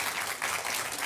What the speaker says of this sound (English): with that, applause